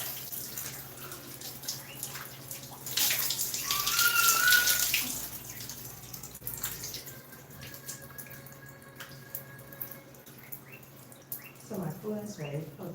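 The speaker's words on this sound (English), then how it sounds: "Alright, so we shower now." Shower water running in a home bathroom, a steady hissing spray that swells louder midway, then settles into a softer flow, with people talking over it.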